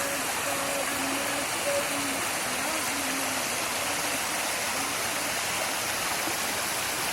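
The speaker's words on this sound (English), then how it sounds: "A personal waterfall to the resort." A waterfall beside a resort in Wayanad, India, pours in a steady, dense broadband rush that fills the whole clip, with faint tonal hints of a voice low under the water noise.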